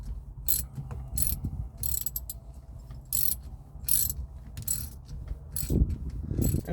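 A socket wrench ratchets as it snugs down a steering wheel knob, with a series of quick, close clicking bursts at a steady pace and a couple of duller knocks near the end.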